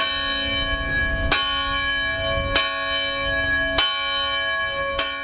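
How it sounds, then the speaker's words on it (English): A large church bell of Our Lady of Lourdes tolls slowly, four strong strikes about a second and a quarter apart, each leaving a long ringing hum that carries between them. "The bells of Our Lady of Lourdes survived Katrina."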